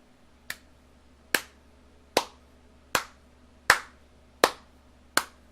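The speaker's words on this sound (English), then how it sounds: "I'll applaud that" One person claps hands seven times at a steady pace of roughly one clap every three-quarters of a second. Each clap is crisp and close, with a short decay, in a quiet room with no speech.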